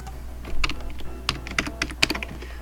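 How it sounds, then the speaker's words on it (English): A computer keyboard clatters with quick, irregular bursts of key presses and taps, close and fairly loud, with no talking. "You might notice that I use the keyboard a lot."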